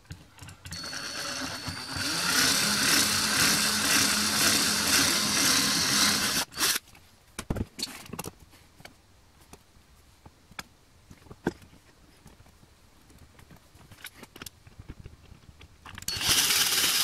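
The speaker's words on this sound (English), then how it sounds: "I can go around and screw in all the other holes" Guitar hardware being screwed into holes during a build, first with a sustained buzzing power driver burst, then scattered clicks and ratcheting taps from the work, close and quiet, with a final driver burst at the end.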